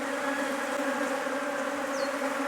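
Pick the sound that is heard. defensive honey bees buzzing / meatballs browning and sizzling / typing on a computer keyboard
defensive honey bees buzzing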